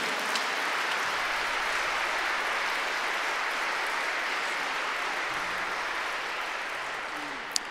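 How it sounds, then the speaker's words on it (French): Dense, sustained applause from a large audience at a Montreal youth evening talk, a steady roar of clapping that holds evenly throughout and tapers slightly at the end. "Applaudissez-le, ce garçon."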